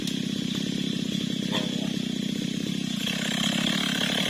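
Chainsaw cutting through a tree, its engine droning steadily and loudly at close range with a slight load change near the end as the blade bites into the wood.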